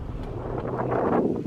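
Gusty wind buffets the microphone in a steady low rumble that swells slightly toward the end, with no voices.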